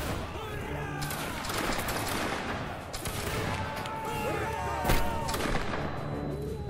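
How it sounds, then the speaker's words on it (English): Musket volleys crackle across a Napoleonic Wars battlefield, with ragged overlapping shots and distant booms filling a continuous din beneath a talking voice. "Fire at will. Fire at will. Fire at whoever."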